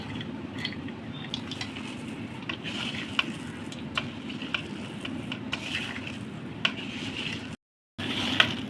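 Masala vadai, lentil fritters with spices, frying in hot oil, giving a steady soft sizzle with faint crackles throughout and a brief dropout near the end.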